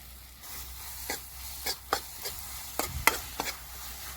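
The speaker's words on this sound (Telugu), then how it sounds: "బీరకాయని మంచిగా కలుపుకోవాలి." Ridge gourd curry being stirred in a pan, with a spoon scraping in irregular strokes over a faint, steady sizzle, several sharp clinks standing out, fairly quiet and with no voices.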